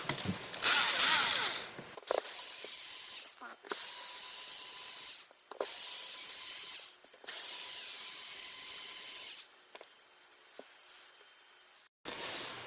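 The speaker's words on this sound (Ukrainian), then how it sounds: "Так, відкрутив я 4 гвинта." Four screws are undone on a pressure washer, heard as a series of whirring, hissing bursts separated by short pauses, close and fairly loud.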